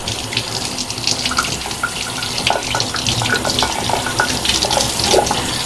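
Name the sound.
gyre pump part rinsed under running hot tap water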